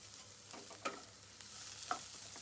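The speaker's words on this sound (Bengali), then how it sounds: "বাঁধাকপিটা দেওয়ার পরে ভালো করে বাঁধাকপিটাও একটু ভেজে নেব হালকা করে" Cabbage and other vegetables stir-fry in a wok for Maggi noodle chowmein, a soft, low sizzle broken by two faint metallic spatula clinks about a second apart.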